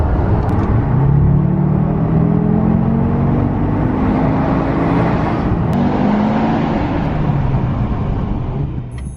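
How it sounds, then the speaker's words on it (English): A 2019 Audi RS3 saloon drives on the road early in the morning. A steady, loud engine drone and road rumble fill the cabin, with the pitch rising gently as the car pulls. "on the road in an Audi RS3"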